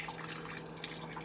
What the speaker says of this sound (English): I will rinse them all off.